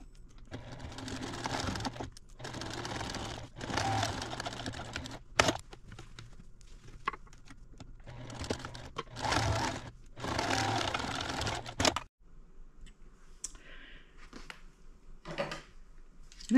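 A sewing machine stitching a seam on a Halloween table runner, running in several bursts of rapid mechanical whirring and clatter a second or two long, separated by short pauses, close and clear with no talking.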